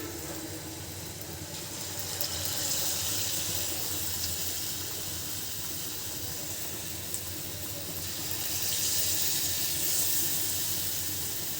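Taler bora fritters fry in hot oil, a continuous loud hiss and bubbling sizzle that holds steady throughout with slight swells and no voices.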